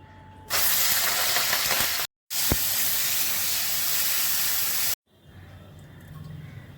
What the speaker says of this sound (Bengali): প্রথমেই আমি চিংড়ি মাছগুলো ভেজে নিচ্ছি।